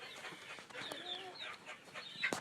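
Chicks peeping in a rapid series of short, high chirps, faint and close, with overlapping calls and no talk.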